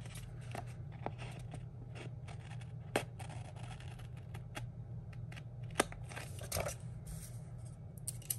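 Scissors trim paper for a planner page, giving faint, scattered crisp snips and small rustles over a quiet low room hum.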